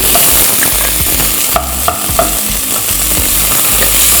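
Thinly sliced onions sauté in a pan, with a steady sizzle and repeated scraping stir strokes close by. No one talks.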